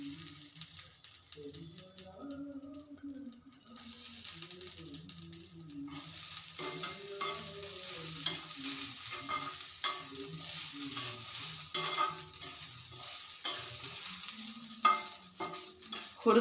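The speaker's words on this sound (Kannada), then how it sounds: "ಇದಕ್ಕೆ ಬೇಕಾಗುವಷ್ಟು ಸ್ವಲ್ಪ ಕಾಯಿ ತುರಿನೂ ಹಾಕ್ಬಿಟ್ಟು ಸ್ವಲ್ಪ ಹುರಿತೀನಿ." Grated coconut crackles softly as it roasts in a pan, under a quiet continuous sizzle with occasional light scrapes of stirring, a faint background hum, and no voices.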